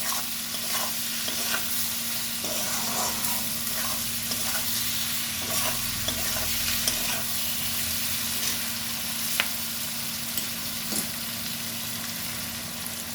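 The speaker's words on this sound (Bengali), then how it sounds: "সব মশলা দিয়ে কুদলিগুলোকে ভালো করে আরেকটু ভেজে নিতে হবে।" Ivy gourd pieces fry with spices in a pan, a loud, steady close sizzle with scraping stirs and occasional light clatter throughout.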